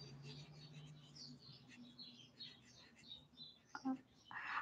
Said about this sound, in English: I don't know if you can hear the birds outside of my house right now